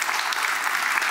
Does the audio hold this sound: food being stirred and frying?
no